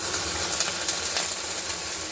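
Potato pieces tipped into a hot frying pan, giving a loud, close, continuous sizzle and hiss with faint crackles.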